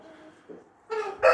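Chickens in a coop give a few quick clucks and squawks, close and brief, with one louder call at the end.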